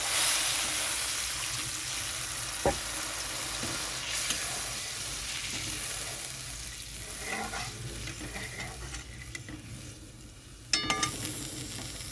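Water hits a sizzling pan of rohu fish curry base with sweetened yogurt, a loud, continuous hiss and bubbling, broken by a couple of sharp utensil clacks against the pan.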